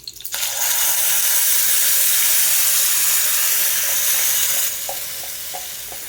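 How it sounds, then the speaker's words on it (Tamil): Steady, loud sizzling of ground paste frying in a pan for mushroom gravy, a continuous hiss that eases off toward the end with a few light clinks. "இதெல்லாம் நல்லா பொரியட்டும்."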